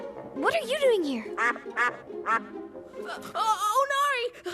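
A cartoon duck quacks in a quick string of bright, nasal calls, close and loud, mixed in with animated character voices.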